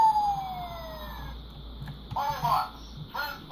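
Electronic siren from a 2001 Transformers Robots in Disguise Optimus Prime toy, a tinny wailing tone sliding down and repeating, followed by short bursts of synthesized sound effects, fairly loud and close.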